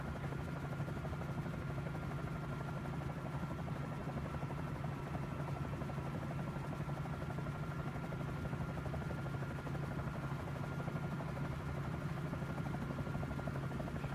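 A Bell 47 J-2 helicopter flies in Microsoft Flight Simulator with a constant, even rotor and engine drone with a low thrumming buzz, steady and unbroken throughout, at moderate level.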